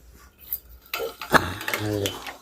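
Mustard seeds dropped into hot oil in a home kitchen pot for Gujarati dal, giving a sudden crackling sizzle with a sharp clink of a spoon against metal, close and fairly loud.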